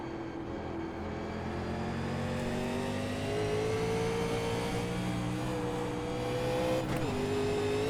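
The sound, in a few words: race car upshifting in video game iRacing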